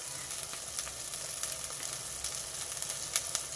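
Onions fry in oil in a pan for a meal maker gongura curry, giving a continuous close sizzle with faint crackles and no talking over it.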